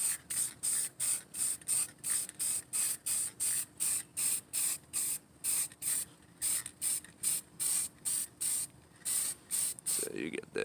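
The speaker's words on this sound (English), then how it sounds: "And so now we'll spray this." A rapid series of short spray-paint bursts onto plywood, steady and evenly spaced like hissing pulses, close and continuous throughout, with faint movement near the end.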